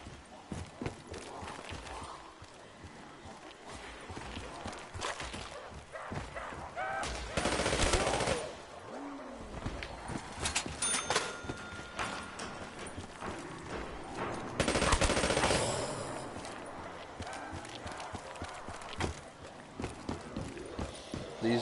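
Rapid bursts of PPSh submachine gun fire in a Call of Duty Zombies game, loud and repeated in short strings, mixed with game effects while someone talks over the action.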